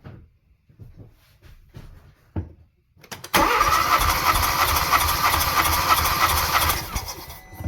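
A 2016 Hyundai Tucson 1.6L engine, with a misfiring cylinder, cranking during a compression test. A few soft clicks come first, then a loud, steady whirring crank starts abruptly and runs for several seconds before easing off.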